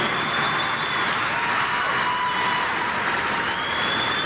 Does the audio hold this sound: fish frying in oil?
no